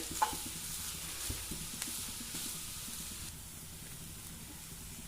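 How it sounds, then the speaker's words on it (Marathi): Grated carrot fries in ghee in a pan, a soft steady sizzle with occasional scrapes and knocks of a spoon stirring, close and fairly quiet, with no talking. "आता हे तुपात टाकलेलं गाजर आपल्याला छान तेलाम तुपामध्ये परतून घ्यायचं"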